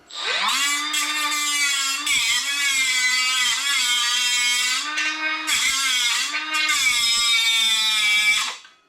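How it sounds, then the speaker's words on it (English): A Milwaukee grinder cuts pins off an engine mount on an SRT-4. A loud, close, continuous high whine dips briefly in pitch several times as it bites into the metal, then stops abruptly. "we're going to be able to take our nice little Milwaukee grinder and get right in here and grind these pins off"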